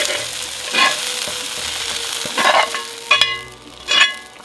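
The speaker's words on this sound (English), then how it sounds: "now I'm going to add the onion and the sausage right to the chili" Onion and sausage being stirred into a pot of chili on a stovetop: a soft sizzle with several distinct scraping stirs and clinks of a spoon against the pot, close and moderately loud.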